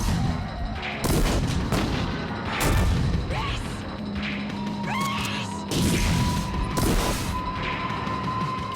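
Shotgun blasts from a Terminator film ring out several times as sharp, loud bangs over a chaotic car-chase soundtrack with engine drone and crashes.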